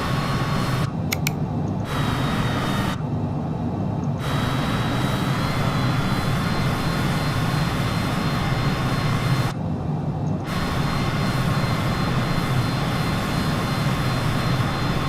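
Jet engine of a MiG-21bis in Microsoft Flight Simulator 2020 during touch-and-goes at Bodø Airport, a steady, loud roar with a high whine, a few brief dips where the sound thins out.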